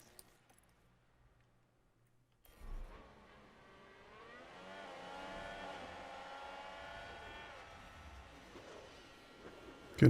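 Formula 1 race cars in the F1 Manager 22 racing game, a Williams Racing car attacking for an overtake with full deploy: a rising, whining engine roar swells in after a quiet start and holds steady, with no talk.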